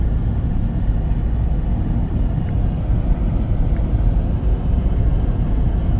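A 1998 Mercedes-Benz V230 (W638 Vito) van cruises along, heard as a steady, loud, low engine and road rumble that holds even for the whole stretch, with no talking.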